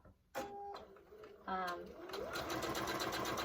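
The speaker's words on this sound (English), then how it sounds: "I'm going to sew that, and then we're going to continue that process for the whole" A sewing machine stitches quilt blocks together for a chevron quilt, starting in short bursts and then running in a fast, steady mechanical patter, close and clear, with a person talking over part of it.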